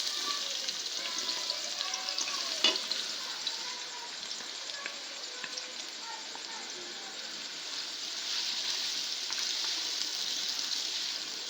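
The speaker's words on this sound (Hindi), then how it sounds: "प्याज को हमने फ्राई करना है" Onions frying in hot oil in a pot, a steady soft sizzle with occasional stirring clinks, continuous and fairly quiet.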